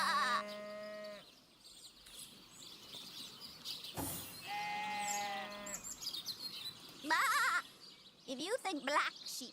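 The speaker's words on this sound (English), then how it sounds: "If you think black sheep are weird, try weird sheep." Sheep bleat in the video game Divinity: Original Sin, two clear wavering calls a few seconds apart, close and fairly loud, followed by chirpy bird-like cries and a voice speaking partway through.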